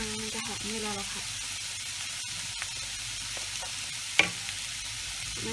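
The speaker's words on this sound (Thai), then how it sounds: "กระเทียมมันจะมีน้ำมันออกมามันจะหอมเวลาเราผัด" Crushed garlic fries in hot oil with a constant close sizzle and hiss, stirred now and then with soft scrapes and one sharp clack from a utensil.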